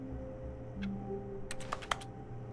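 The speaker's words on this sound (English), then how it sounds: "When I press A, it makes like a typing sound." Keyboard typing in The Stanley Parable: Ultra Deluxe, heard as a quick cluster of several crisp key clicks close by. A steady low background hum runs underneath.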